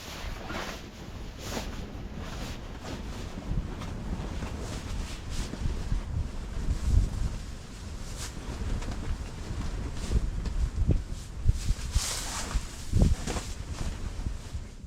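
Steady wind gusting around a hunting blind at the Stump, a continuous broadband rush with rising swells and buffeting against the structure, close and moderately loud throughout.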